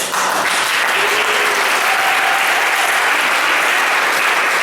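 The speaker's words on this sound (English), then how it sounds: "when one person claps, everybody claps" A group of people applauds together at a leadership academy session, a dense, loud burst of clapping that starts abruptly and holds steady to the end.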